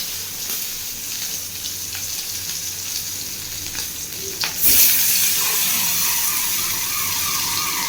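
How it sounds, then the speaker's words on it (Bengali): Tangra fish sizzle and crackle in hot oil, loud and close, with a sharp splattering burst as the fish go in and a steady hiss after that. "মাছগুলো এবার ছাড়ছি, জানি না কতটা ফাটবে।"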